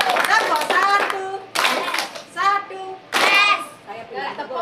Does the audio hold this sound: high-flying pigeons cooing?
no